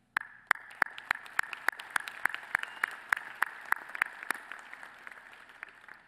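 Audience applause at a December college of business commencement ceremony in a large hall, steady scattered claps with distinct individual hand strikes standing out, moderately distant, fading slightly toward the end.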